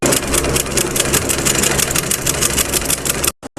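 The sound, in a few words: sewing machine stitching frill onto garara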